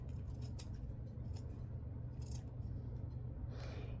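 Several quick, crisp snips of scissors cutting the corners of journal paper, close and fairly quiet over a low steady background hum, with no talking.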